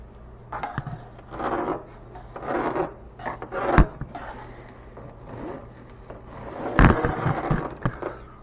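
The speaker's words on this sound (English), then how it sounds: "just sand the texture of the drywall off behind it" Sandpaper is rubbed over textured drywall on a wall during a kitchen remodel. It makes rhythmic rasping strokes, close and moderately loud, with pauses between them and a couple of sharp knocks.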